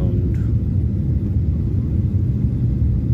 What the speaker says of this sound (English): EK503 flight landing in Dubai right now